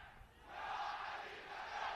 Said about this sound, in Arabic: وهنا اسمع الجماهير